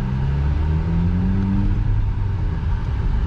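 Engine of a VW Golf 5 GTI with the 2.0-litre BWA motor, a steady low, rumbling rev close by, droning evenly for a few seconds with no voices over it.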